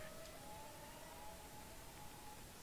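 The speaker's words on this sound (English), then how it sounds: "There is a siren." A steady siren wails inside a Roblox SCP horror game, a sustained tone held at moderate level for the whole stretch over a dense hiss of game background noise.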